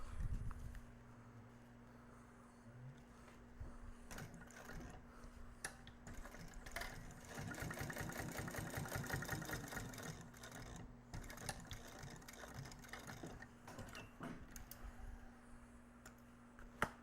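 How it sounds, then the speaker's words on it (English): A sewing machine stitching leather for an accordion wallet, a close run of fast rhythmic mechanical clatter swelling in the middle, with quieter handling ticks before and after. "Sew that down."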